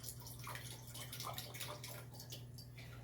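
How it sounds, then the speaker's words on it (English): Red wine poured through an aerator into a glass, giving a steady run of bubbly, irregular little gurgles and trickles, close and fairly loud, with no talk. "I'll pour through this so you can just kind of hear it. Makes a lot of weird little gurgling sound."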